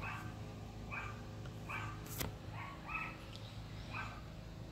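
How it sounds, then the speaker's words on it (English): A neighbour's Yorkshire terrier barks in a series of about five sharp, high yaps at a steady pace, heard faintly from a distance over a low indoor hum. "Of course the neighbor's dog's gonna bark now."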